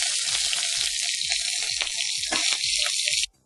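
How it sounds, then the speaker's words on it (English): Whole tomatoes frying in oil crackle and sizzle loudly and continuously, with rhythmic low thumps underneath, before the sound cuts off abruptly near the end. "Now fry the tomatoes as a whole"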